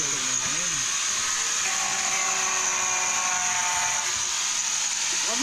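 A continuous high-pitched drilling whine runs steadily throughout, with a few voices and clatter faintly underneath.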